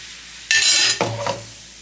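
A spoon stirs melon jam thickened with cornstarch in a pot, giving two short bursts of scraping and sloshing close by, with no talking.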